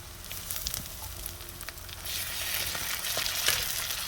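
Spices frying in a pan while ol (elephant foot yam) curry is prepared, giving a steady close sizzle with occasional stirring scrapes that builds slightly louder toward the end, no voices.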